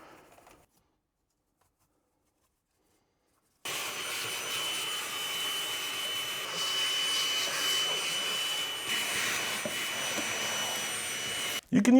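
A vacuum cleaner switches on abruptly after near silence and drones at a steady, close, whining roar while cleaning a car interior during a detailing job, then cuts off near the end.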